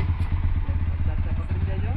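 A motorcycle engine runs close by with a loud, low, even throb and a steady pulsing rhythm throughout.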